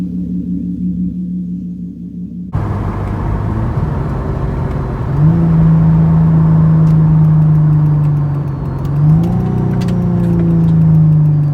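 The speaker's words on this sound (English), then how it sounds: "Let's go ahead and get the car started, warmed up" A Hyundai Genesis Coupe's engine cranks and catches, then settles into a loud, steady idle close by, with the pitch stepping up at a brief high warm-up idle and shifting again later, and no one talking.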